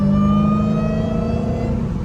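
A car engine revs loudly in third gear during a late-night drive, a close, steady, buzzing drone whose pitch sags slightly over a couple of seconds.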